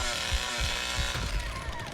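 A chainsaw revs hard in The Texas Chainsaw Massacre video game, a loud, continuous buzzing snarl that pulses with repeated throttle surges over roughly two seconds, close and dominant.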